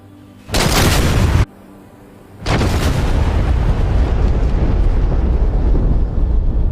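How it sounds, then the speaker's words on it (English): Bombs from Vulcan bombers hit the Port Stanley runway in the Falklands in 1982: a loud, close blast lasting about a second, a brief lull, then a second heavy detonation that rolls into a long, sustained roaring rumble. "British Vulcan bombers attacked the Port Stanley runway in the Falklands"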